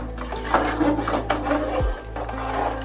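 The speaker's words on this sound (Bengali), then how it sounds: "এবার আমি এই মশলাটা পুরো এর মধ্যে ঢেলে দিচ্ছি। ঢেলে ভালোভাবে একটু নাড়িয়ে দিচ্ছি।" Boiled spice mix is poured into a pot of khichuri and stirred well, with a wooden spoon rasping and rubbing against the pot in a close, uneven rhythm and a short low gurgle partway through.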